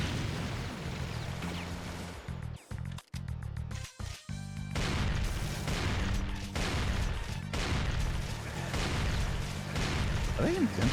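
Shotgun blasts in Doom with the Brutal Mod, heavy booming shots in quick irregular succession amid crashing game effects and monster noise, loud and dense, with a player talking over the action.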